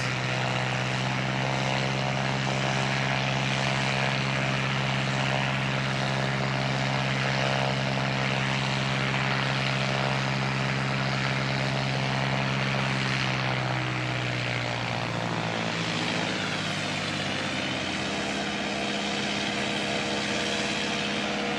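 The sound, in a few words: Air New Zealand flight NZ 5343 propeller aircraft departing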